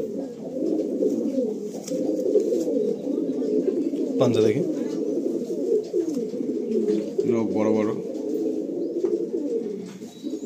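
Pilanka line pigeons with blue beaks cooing in a loft, low repeated throaty coos running steadily near the listener while someone speaks over them.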